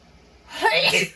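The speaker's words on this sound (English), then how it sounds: "I'm going to sneeze." A single big human sneeze erupts after a brief quiet intake, loud and close, with a sharp burst and a trailing breathy release.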